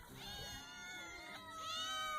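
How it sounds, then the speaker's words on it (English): Cats meowing just outside a room: two drawn-out, wavering meows with a brief break between them, moderately near and clear, no talking. "I get to hear the cats doing weird stuff outside of the room"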